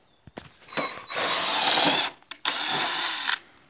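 A power drill bores a hole into a greenhouse frame to fix an end seal, in two sustained whirring bursts separated by short pauses and brief clicks, close and fairly loud with no talking.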